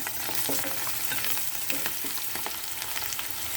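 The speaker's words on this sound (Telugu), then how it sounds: "ఒక 2-3 మినిట్స్ తర్వాతకి ఇలా బాగా వేగాలి కాకరకాయ." Sliced bitter gourd frying in a pan gives a steady close sizzle with soft crackles and occasional stirring scrapes, with no one speaking.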